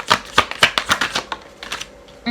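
Tarot cards being shuffled, a quick series of close, crisp riffling bursts in an uneven rhythm, fading to softer flicks before a final snap.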